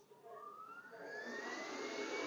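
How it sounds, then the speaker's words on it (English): The vacuum system on a FocusInc Cobra-69S single-pass corrugated cardboard printer spins up, a whooshing blower whose whine climbs steadily in pitch and grows louder as it comes up to speed, with no one talking. "We click start. The vacuum is working."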